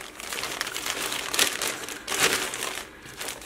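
Plastic packaging that has been cut open crinkles and rustles close up, with two louder crunching bursts amid continuous handling noise and no talking.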